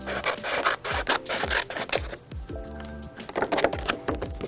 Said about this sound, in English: I'm just going to take a little bit off the sides just to ensure that it's not too bulky for when I wrap.